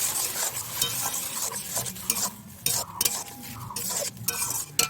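Chana dal stirred in a pan with a little water added, giving a close, steady sizzle and frying hiss broken by scraping stirs and light clinks of a utensil against the pan.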